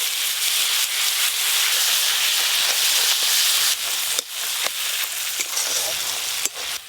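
Spice paste of ground poppy seed, melon seed and cashew with chili and turmeric powder frying in hot oil for pea kofta curry, a loud, close, continuous sizzle with a few sharp scrapes and clicks of stirring.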